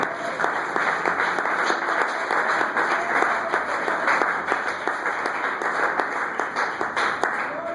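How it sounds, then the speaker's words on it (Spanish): A church congregation applauds loudly and steadily, with a dense, sustained wash of clapping that lasts throughout. "yo quiero que le den un fuerte aplauso a Cristo"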